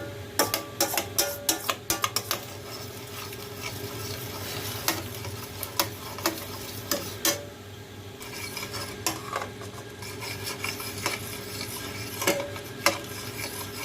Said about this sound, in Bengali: এটা ক্রমান্বয়ে নাড়তে থাকতে হবে